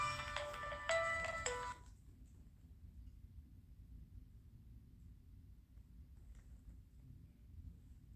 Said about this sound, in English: Pardon me, let me cut my phone off.